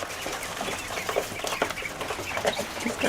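Molting quail at a quail farm call and chatter in a dense, continuous flock, soft clucks and chirps overlapping close by with no clear pauses.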